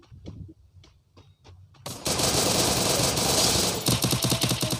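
AR assault rifle fire in a video game: a few sparse single shots, then a long loud burst of rapid automatic fire with brief gaps, close and dense.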